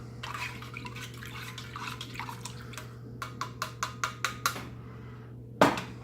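Lemon lime drink powder from a vintage 1999 Sopakco civilian MRE being stirred in its pouch, a run of quick close clicking strokes that speeds into a rhythmic series and ends in one sharper knock.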